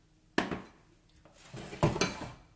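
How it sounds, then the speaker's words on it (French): Utensils clatter and scrape against a salad bowl as pasta salad with tuna, corn, tomato and mayonnaise gets mixed, giving two separate bursts of clinking and rustling, close and fairly quiet. "Et vous mélangez tout simplement cette petite salade en composé de pâtes, de thon, de maïs,"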